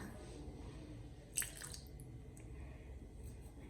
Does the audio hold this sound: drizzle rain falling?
no